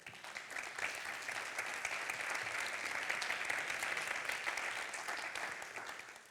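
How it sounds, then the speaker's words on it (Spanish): Sustained audience applause fills a Barcelona event hall in honour of Carmen de Mairena, a dense steady clatter of many hands that swells quickly and holds loud and even throughout, with no voices rising above it. "Quiero pediros un aplauso para Carmen de Mairena,"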